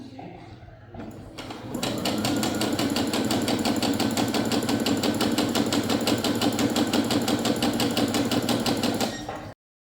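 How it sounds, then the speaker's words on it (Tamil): A Brother SE625 sewing machine stitching fabric at a steady, fast, even whir that starts up after a soft lead-in and runs continuously close by before cutting off abruptly. "ஓகே, இப்போ இந்த சைடு நம்ம தைப்போம்."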